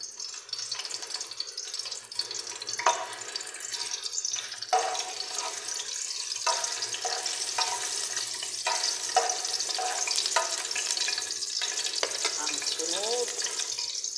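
Garlic frying in hot oil for salted fish ginamos, a steady close crackling hiss that runs throughout, with brief utensil clinks and stirring noises over it and no talking.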